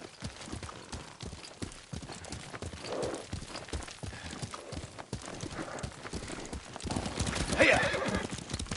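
Horse hooves clip-clop in a steady rhythm, then a horse neighs loudly near the end, with faint ambience beneath, in the video game Ghost of Tsushima.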